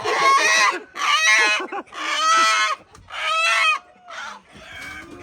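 Chickens cluck and a rooster crows close by in a barnyard, a series of loud, harsh, drawn-out calls in quick succession with brief gaps, no speech over them.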